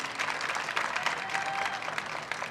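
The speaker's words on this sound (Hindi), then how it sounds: "खुल के तालियाँ बजा सकते हैं आप लोग" An audience at the Aalmi Urdu Conference in Karachi claps steadily and densely, with many hands together filling the hall at a moderate level and no voices.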